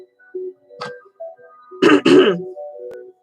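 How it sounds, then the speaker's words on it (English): A person clears their throat twice in quick, rough bursts, close to the mic, amid quiet background clicks and a few soft tones. "I had to clear my throat"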